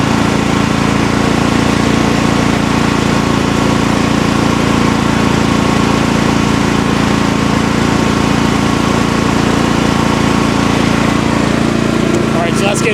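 A Champion 8750 tri-fuel generator running inside a DIY shed enclosure makes a loud, constant engine drone with a steady low hum that never lets up.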